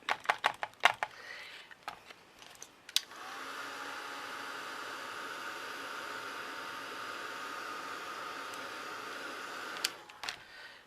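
A heat embossing tool blows hot air over a steampunk craft tag: a steady, close whooshing drone lasting about seven seconds, framed by clicks and handling noises before and after.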